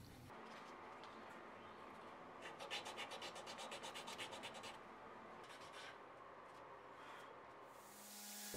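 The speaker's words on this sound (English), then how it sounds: "This involves quite a bit of elbow grease and a lot of little pieces of sandpaper." Hand sanding the fuller of a mosaic Damascus steel knife blade with small pieces of sandpaper, a steady close rubbing scratch with a faster stroking rhythm in the middle, no talk.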